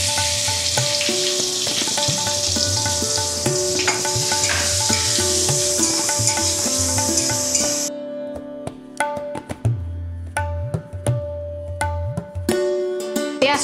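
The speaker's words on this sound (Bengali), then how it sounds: "এবার আমি দিয়ে দিচ্ছি পেঁয়াজ কুচিটা" Chopped onion frying in hot oil in a kadai, a loud continuous sizzle that later thins into crackles broken by repeated spatula scrapes and stirs, close up with no talking.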